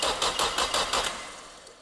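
Nissan Silvia engine cranking over in a rapid series of about six starter pulses that fade into a quiet tail without catching.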